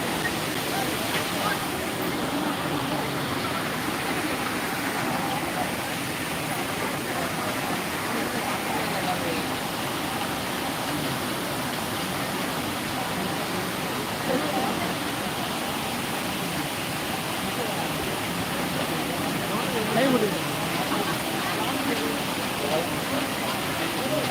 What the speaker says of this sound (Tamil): அது வரைக்கும் தண்ணி விழுறத எல்லோரும் கண்டினியூஸாக பார்த்துட்டு இருக்காங்க